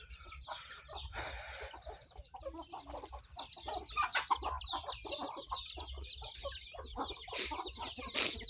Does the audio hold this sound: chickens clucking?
yes